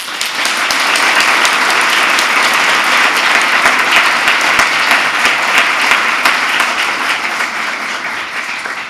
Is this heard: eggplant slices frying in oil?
no